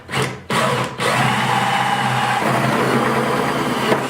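A power drill spins up and whines steadily with a 3.5-inch hole saw grinding through a 5-gallon bucket, after two brief starts at the beginning.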